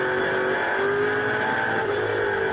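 A racing car engine roars steadily on a circuit as Australian and American muscle cars battle, including a Mustang, a loud continuous drone with shifting engine tones and no talking.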